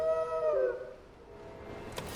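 Torgal, the dog in Final Fantasy XVI, gives a single tonal howl that bends downward and fades within a second, followed by quiet ambience and a small thud.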